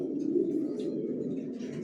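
Racing pigeons coo in low, soft, throaty rolls, a close and continuous murmur at modest volume with no voices over it.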